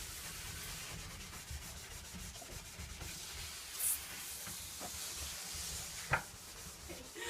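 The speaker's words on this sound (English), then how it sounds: "sometimes I'm wiping the wax off the scraper like that just so it gets out of my way" A plastic scraper rasps along a waxed ski base in steady, close scraping strokes, with a couple of sharper knocks as wax is cleared off the blade.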